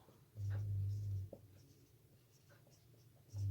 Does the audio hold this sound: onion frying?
no